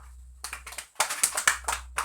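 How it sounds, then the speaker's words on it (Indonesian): A small classroom group of children claps in a brief, uneven burst of sharp hand claps, close and moderately loud. "Tepuk tangan dulu untuk Loveno."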